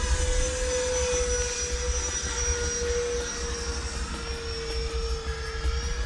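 RC model jet planes, an F-22 and an F-18, fly overhead with a steady whining turbine hum and a sustained tonal whistle, holding a fairly even, moderately loud level with no voices.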